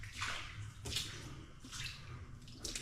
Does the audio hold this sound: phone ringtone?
no